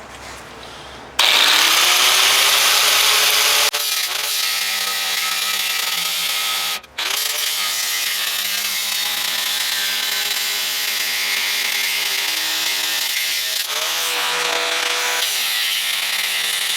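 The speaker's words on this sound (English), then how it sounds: "But I got the grinder here already, so" An angle grinder cuts metal for a transmission mount modification on a Bronco. Loud, steady, high-pitched whine that runs continuously for about fifteen seconds, with a couple of brief dips as the cut pauses.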